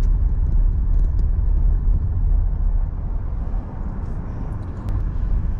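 A car drives through the streets of Paris, heard from inside as a steady low engine and road rumble that eases slightly midway, with faint high ticks and no talk.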